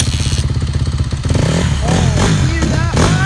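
A Honda 150R dirt bike engine runs nearby, loud and throbbing, starting as a steady idle and then breaking into rising and falling revs.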